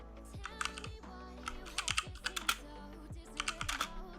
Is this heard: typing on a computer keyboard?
yes